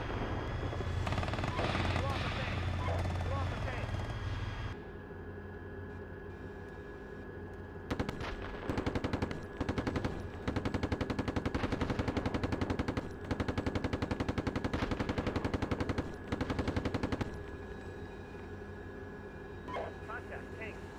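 Bursts of machine-gun fire rattle through a military video game battle, rapid repeated volleys over a steady engine drone, with rumbling and a voice on the radio cutting in.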